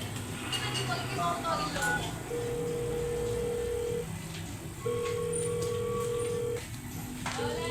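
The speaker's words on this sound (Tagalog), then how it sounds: "Tatawag muna ako kay Luanzo para sigurado." A telephone dialing a call gives steady electronic tones in two long beeps with a short gap, heard over a busy background of music and voices.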